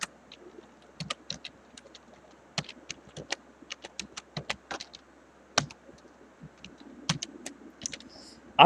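Typing on a computer keyboard while entering a Python simple interest formula, irregular clusters of close, crisp key clicks with brief pauses in a quiet room.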